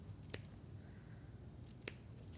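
Scissors cut quilt fabric pieces with two crisp, quiet snips about a second and a half apart, close up over a soft background hush.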